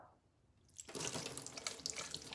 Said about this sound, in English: when you've tried to fill one of these water bottles